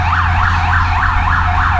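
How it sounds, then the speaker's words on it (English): An ambulance siren wails loudly and steadily in a repeating up-and-down sweep on a street in Querétaro, Mexico, with a low rumble of road traffic underneath and no talking. "Ambulance going by."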